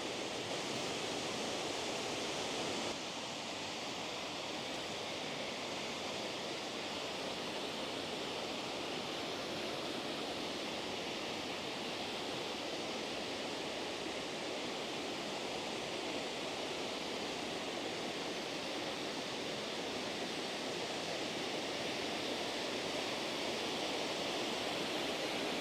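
Spooyt Vane waterfall at Glen Mooar on the Isle of Man gives a steady, broadband rushing roar heard close at river level, unchanging and without voices.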